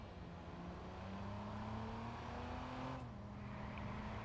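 Car engine in the online mode of the Watch Dogs video game, a steady, low drone that holds through the clip and then drops in pitch near the end, with no voices over it.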